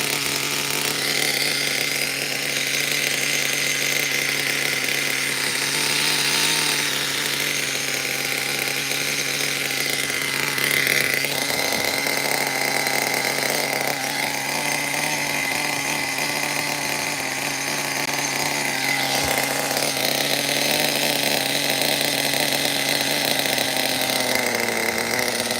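Picco 7-port nitro engine running in an OFNA CRT.5 1/12-scale truggy, a steady high-pitched buzzing drone that holds for the whole stretch with small shifts in pitch, loud and close.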